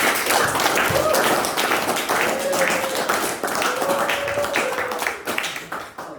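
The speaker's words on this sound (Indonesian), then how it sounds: "Kita tepuk tangan sekali." Audience clapping at a Catholic postulancy talk on missionary work in Mozambique, a dense, steady round of applause lasting several seconds before tapering off, with faint voices underneath.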